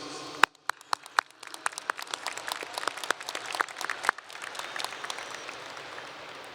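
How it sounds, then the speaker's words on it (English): Applause at a high school graduation ceremony in a large hall, beginning with a few sharp, distinct claps that swell into scattered, moderately loud clapping from the audience. "I would like us all to give a round of applause to these students."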